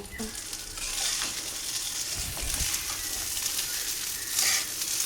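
Cooked Dehradun rice being stirred with spices and shrimp in a hot frying pan for shrimp fried rice, giving a continuous close sizzle with soft scraping and tossing sounds, no talking.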